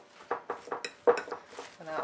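A spoon stirs a sticky mixture of seeds, nuts and dried fruit in a bowl, making repeated soft scraping clinks against the dish at a steady rhythm, close and moderately loud.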